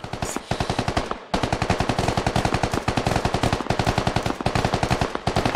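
Rapid automatic gunfire rattles almost nonstop in the tactical shooter SquadOps, dense close bursts of machine-gun shots with a brief gap near the start and no talking.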